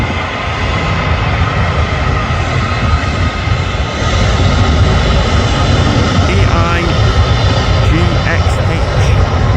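Loud, continuous roar of a Ryanair jet airliner arriving at Manchester Airport, heard steadily from a nearby viewing park with a faint voice underneath.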